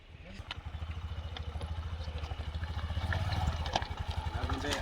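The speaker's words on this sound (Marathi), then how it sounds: "आता ती सुद्धा या लाकडी पुलावून जाणार आहे" A motorcycle rolling across a wooden bridge on a pilgrimage route, a rapid rhythmic clatter of planks under a low engine thrum, growing louder as it approaches.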